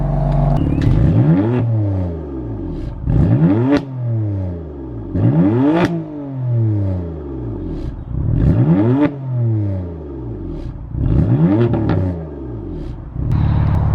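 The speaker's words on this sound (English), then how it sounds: "I think we'll stop revving" BMW F80 M3 in Sport Plus mode, engine blipped repeatedly while parked: loud, close revs rising and falling in a regular rhythm of about seven sharp bursts, each dropping back to a rumbling idle.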